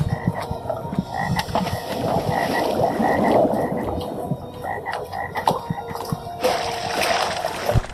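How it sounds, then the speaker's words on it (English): A giant video-game toad croaks in repeated low, throaty calls over a dense watery, gurgling backdrop, loud and continuous for several seconds with no voices. "that is one genetically modified toad"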